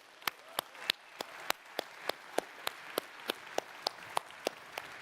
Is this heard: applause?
yes